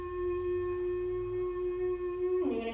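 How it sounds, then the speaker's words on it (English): A closed-mouth hum sung in falsetto head voice, one steady sustained pitch held clearly and alone for over two seconds before breaking off into a breathy release. "we're gonna go back to closed mouth, but we're gonna jump up here in the head voice"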